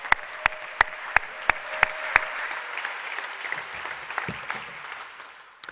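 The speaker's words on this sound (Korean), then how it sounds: "선교사님 나오실 때 큰 박수로 환영해 주시기를 바랍니다." A church congregation at a Holy Spirit Festival prayer gathering applauds a missionary onto the stage, a steady wash of clapping from a large crowd with a few sharp rhythmic claps early on, fading out near the end.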